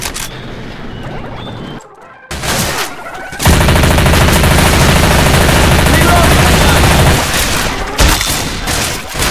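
Sustained automatic gunfire in Left 4 Dead 2, loud and close, a dense rattling burst lasting several seconds after a few shorter shots, with a brief pause before it and more shots trailing off.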